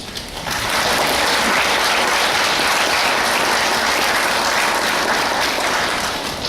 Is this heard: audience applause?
yes